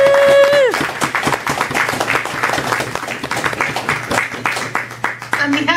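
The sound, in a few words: audience applause at poetry book launch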